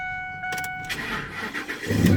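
A 2007 Ford F150 turning over with a freshly programmed key: a chime and brief key clicks, then the starter cranking and the engine catching with a rising rumble at the end, close by.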